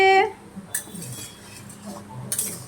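A metal lid clinks onto a pot of cooking mutton with a short bright ring at the start, followed by faint scraping and soft clatter of the lid settling, close and quiet.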